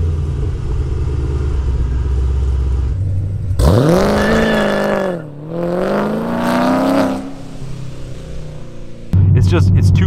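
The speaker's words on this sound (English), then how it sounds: "I'm not really a fan of the startup and idle sound" A 2017 Chevrolet Camaro with an aftermarket exhaust starts up with a rising rev, settles into a deep rumble, then falls to a steady idle between passages of low engine hum.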